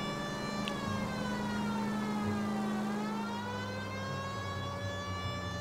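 A police car siren in the video game L.A. Noire wails continuously, its pitch sliding down and back up in one slow sweep, loud and close over a low engine rumble with no talking.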